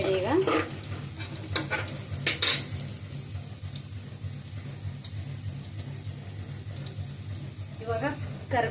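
Food frying in a pan, a continuous sizzle with scraping stirs and a few sharp metallic clinks of a spoon against the pan, moderately close and steady throughout.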